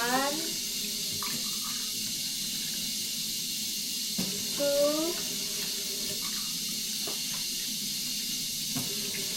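Water poured into a Russell Hobbs stainless steel rice cooker pot in short steady splashes, one cup after another, over a constant background hiss, with a voice counting along.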